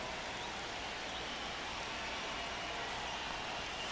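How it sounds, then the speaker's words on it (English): Steady rain falling over a ballpark in MLB The Show 25, a soft continuous hiss of drops at low volume with no distinct pauses. "This rain is not letting up."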